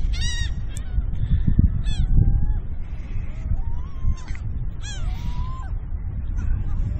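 Seagulls calling at sunrise on Siesta Key Beach along the Gulf Coast, with several bursts of repeated high laughing cries and some longer wails over steady surf and wind, plus a little distant talk.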